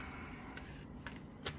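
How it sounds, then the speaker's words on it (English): A resin-crafting timer gives a few faint, brief electronic beeps at irregular spacing beneath a low background hum. "thank you, timer"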